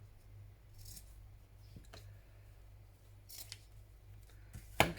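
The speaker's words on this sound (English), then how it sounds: "I'm going to trim that off a little bit longer than I know I need" Scissors snip through a piece of lace fabric for a journal cover, giving a few quiet, brief cuts spread across the stretch, with a sharper snip near the end over a low background hum.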